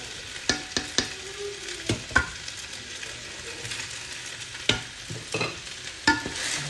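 Boiled rice being stirred in a frying pan for arroz con tres delicias, a spoon scraping and tapping at an irregular pace over a soft, steady sizzle, close by with no talking.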